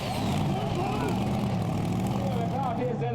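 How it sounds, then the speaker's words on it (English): Pulling tractor with two turbocharged diesels and a V8 on a dirt track at a Danish Eurocup tractor pulling event, a loud continuous engine roar with shifting whining tones and a commentator's voice over it. "Two turbocharged diesels and a V8 howling at the front."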